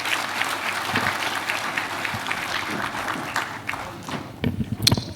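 An audience at a corporate sustainability report launch applauds in a dense, sustained wash of clapping that thins into a few louder, distinct claps near the end.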